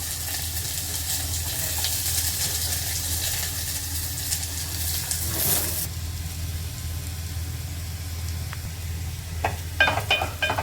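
Continuous soft sizzle of chopped garlic and ginger frying in a pan, steady and close, with a brief clatter and a few utensil clicks near the end.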